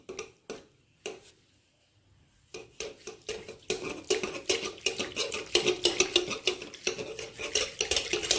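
A wire whisk beats a creamy bread pudding mixture in a bowl, with quick rhythmic clinks against the side that start sparse, pause briefly, then run fast and steady, close up and with no talk.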